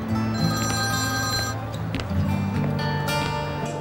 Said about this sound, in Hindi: एक मिनट, मुझे फोन उठाना है।